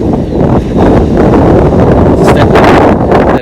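Strong wind buffets an outdoor microphone beside the North Norfolk Railway line, producing loud, continuous low rumbling and gusty roaring bursts with no speech.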